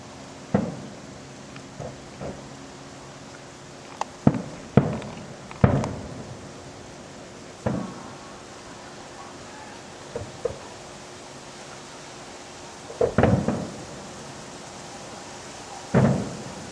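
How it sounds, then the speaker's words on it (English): Fireworks burst in the distance near Turtle Bay, scattered muffled booms and pops at irregular intervals over a quiet outdoor hiss. "Fireworks in ending of October."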